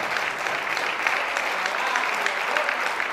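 A church congregation applauding at a campaign service, steady dense clapping from many hands that runs without a break from start to finish.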